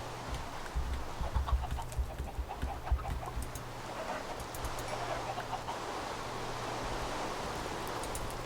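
Chickens cluck softly on a Minecraft chicken farm, a few short scattered game clucks over a steady low hum, faint and moderately distant.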